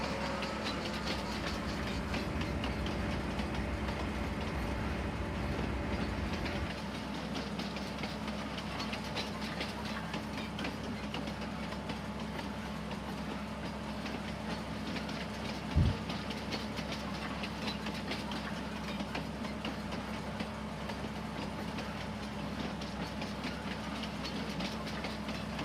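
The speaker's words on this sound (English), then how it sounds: "You just go around the map on the train." A train rolls around the farm map in Farming Simulator 19, a steady rumbling engine drone with faint rail clatter that runs unbroken for the whole stretch, softening slightly partway through, with one brief thump.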